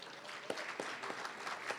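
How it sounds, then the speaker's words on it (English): Brief round of applause from a dinner crowd for sponsors at a charity dinner and silent auction, moderately quiet clapping with a few sharper claps standing out. "Give a round of applause, Unicare."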